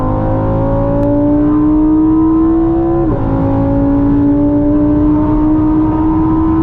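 A Lamborghini Huracan EVO Spyder V10 at speed on the Autobahn drones loudly and continuously from inside the car, with a brief blip and drop in engine pitch as it downshifts partway through.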